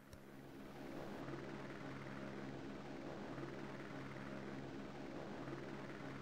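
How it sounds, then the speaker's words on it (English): A helicopter drones steadily overhead, its rotor chop a constant low rumble with no talking. "The helicopter sees us."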